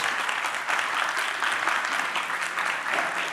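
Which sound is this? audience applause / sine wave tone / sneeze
audience applause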